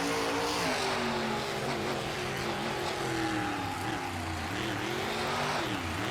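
A racing monster truck named Madusa drives a celebration lap at a Philadelphia arena show, its engine droning loud and steady with rising and falling revs throughout.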